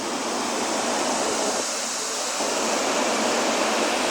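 Water pouring down a river waterfall on the Veerapaandi river near Theni, a loud, steady broadband rush that holds without a break and stands alone with no voices.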